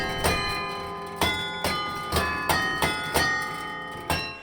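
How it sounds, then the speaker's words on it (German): Mechanical carillon bells in the tower of St. Gertrud church in Stockholm, working as in the 17th and 18th centuries, striking loud, close, bright chimes about once a second, each note ringing on under the next. "Das Glockenspiel ist ganz mechanisch und funktioniert eigentlich noch so, wie es im 17. und 18. Jahrhundert funktionierte."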